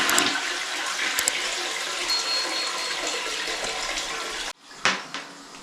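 A toilet flushes right after its plastic lever has been replaced, a loud close rush of water that surges steadily for several seconds, cuts off abruptly, then gives a couple of brief gurgling refill splashes.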